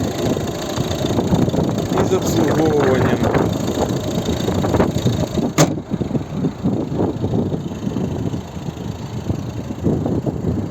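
A 2011 Volvo V50 facelift with a 1.6 diesel engine idles near the exhaust, a steady low rumble with wind buffeting the microphone while someone talks over it.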